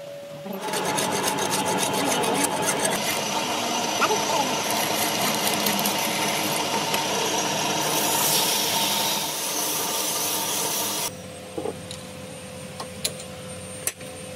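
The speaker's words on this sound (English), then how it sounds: "mounted on another machine so that the edges of the wrench jaw can be machined, achieving a better and more refined shape" A machine cuts the edges of a giant steel wrench jaw during a restoration, giving a loud continuous grinding, rasping whir with dense metallic chatter that cuts off abruptly near the end, leaving a lower hum and a few clicks.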